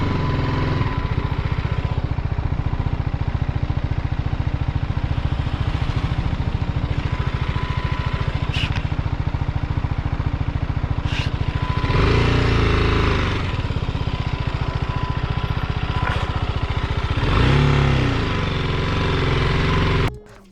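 A motorcycle rides along a footpath toward Triyuginarayan temple, its engine a steady, close, droning hum that continues without a break for about twenty seconds, with occasional rumbles from the uneven ground.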